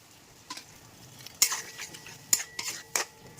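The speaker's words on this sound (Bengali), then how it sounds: "এই মশলার মধ্যেই আমি দিয়ে দেবো চিংড়ি মাছগুলো" Prawns are stirred into a masala of coriander, cumin, ginger, garlic and green chilli in a pan, with irregular close metallic scrapes and clinks of a spoon over a faint sizzle, and no voices.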